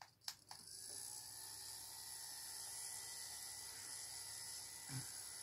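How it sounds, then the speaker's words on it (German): Small electric fan with a missing blade running steadily after a brief clatter at switch-on, a continuous whirring hum with a faint bump near the end, heard alone without talk. "kann ich meinen Ventilator benutzen"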